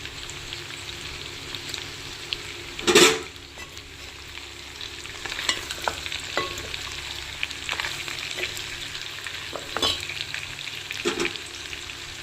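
Curry leaves hit hot oil with a loud crackling burst, then settle into a steady sizzle with occasional stirring scrapes, as country chicken fry is being made; no voices.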